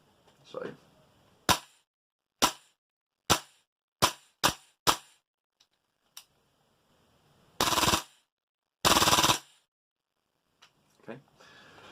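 A stock Tokyo Marui MWS gas blowback airsoft rifle fires five sharp, close cracks in quick succession, then a lone shot and two longer hissing bursts in an otherwise quiet room.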